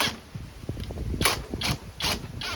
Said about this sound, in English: we're going to see if we can use the impact wrench to get this center steering bolt off